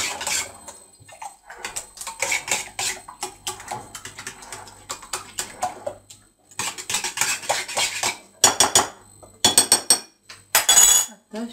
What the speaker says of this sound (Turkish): Malzemelerimizi karıştırıyoruz biraz.